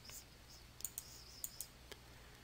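Computer mouse clicking while working in QuickBooks Pro 2014 accounting software: about six crisp, quiet clicks, mostly in quick pairs, over a faint steady background hum with no talking.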